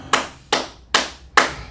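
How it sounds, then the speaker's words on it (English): Four sharp, evenly spaced claps in a small group gathering, each a crisp isolated burst with short decay and nothing else in between, close and fairly loud. "Just clap it up for everybody."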